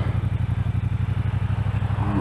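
A Triumph T120 Bonneville with standard exhaust idles close by in a steady, even pulsing thump, loud and alone with a slight rise at the end.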